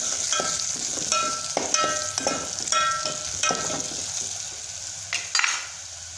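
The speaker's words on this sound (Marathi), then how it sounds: "आपण लाल तिखट हळदी पावडर मसाले टाकून घेत मस्त आपला कांदा भाजला गेलेला आहे" Onion frying in a pan with red chilli powder, turmeric and masala makes a continuous sizzle, punctuated by repeated metallic scrapes and stirring clinks of a spoon against the pan.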